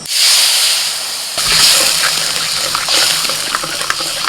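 Mustard-poppy paste mixture, thinned with water, turmeric and salt, poured into hot mustard oil left from frying fish, giving a sudden loud gushing hiss that keeps sputtering and bubbling steadily close by.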